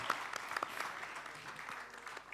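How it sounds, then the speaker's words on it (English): Faint applause from a small audience at a live comedy show, scattered claps heard at a distance over a couple of seconds. "Please, a round of applause for the audience."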